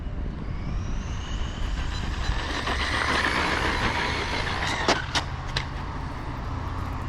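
An upgraded DEERC 9201E RC car tears past at full throttle, its high-pitched motor whine swelling and fading against a broad rushing noise, with a few sharp clicks near the end.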